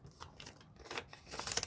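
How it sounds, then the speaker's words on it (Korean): Colored paper is folded in half into a square, making soft, faint crinkles and rustles in a few quick bursts. "얘를 또 반 접을 거예요. 네모가 되게끔."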